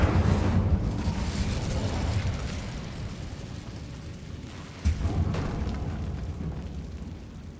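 Incendio fire spell cast in Hogwarts Legacy, a loud roaring fiery burst that rumbles and fades, followed by a second sharp whooshing flare.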